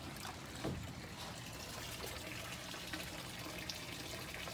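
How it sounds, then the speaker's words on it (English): Water drains steadily through a bell siphon in a home aquaponics grow bed, a continuous soft rushing trickle with small gurgles, fairly quiet and without speech. "You can already see the water levels going down, and that the bell siphon is working."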